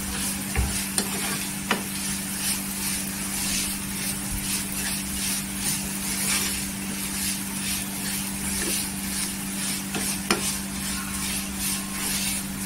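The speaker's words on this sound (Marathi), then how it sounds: "गॅस स्लो करा आणि तेलावर भाजून घ्या।" Semolina roasting in oil for mango sheera, stirred over a low gas flame, gives a soft continuous sizzle broken by faint scraping strokes of the spoon, close and alone without speech.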